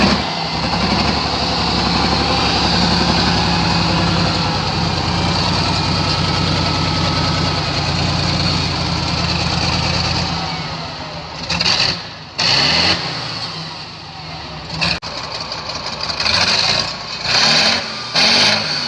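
An old engine runs steadily and loud for about ten seconds with a constant idling drone, then cuts and sputters, firing in uneven bursts and gaps as it stalls and catches again.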